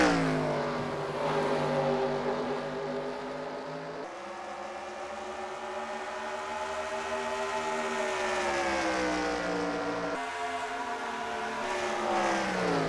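Champion 60 race cars at North Carolina Motor Speedway roar down the backstretch as a loud, sustained whining engine drone. The pitch rises and falls smoothly, with abrupt tonal shifts as the mix of cars changes.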